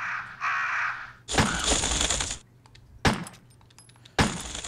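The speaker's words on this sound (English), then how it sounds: "What are these fucking birds?" Crows in Resident Evil cawing harshly in several loud, separate bursts with short gaps between, close and sharp in a video game setting.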